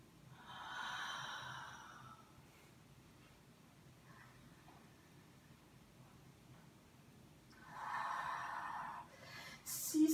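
Two long breathy exhalations during an abdominal exercise, close and soft, separated by a quiet stretch, with a brief rustle at the end.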